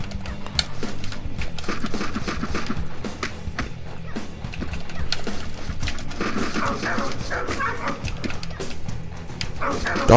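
Dogs bark and yip in the action game Akane, short repeated barks scattered over busy game noise and clatter, steady and fairly loud throughout.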